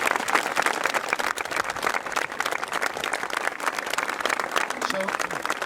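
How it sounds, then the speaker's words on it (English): An outdoor crowd gives sustained applause at a football club statue unveiling, dense clapping from many hands continuing steadily throughout, with some voices mixed in. "So a round of applause for Derek."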